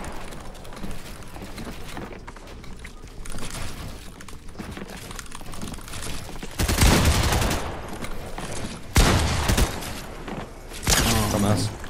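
Gunfire in a Fortnite 2v2 zone war match, bursts of rapid shots rattling out in loud clusters that rise above a busy game backdrop, with players talking over the action.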